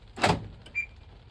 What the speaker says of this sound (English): if I take the key out, this should lock the doors,